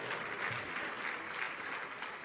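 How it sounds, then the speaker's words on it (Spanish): Faint, steady applause from a church congregation, distant and continuous with no speech over it. "Si quieren aplaudir, aplaudan"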